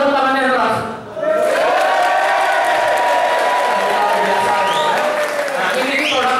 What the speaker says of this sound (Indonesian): kalau ada tepuk tangannya keras, sambil kasih suara gitu ya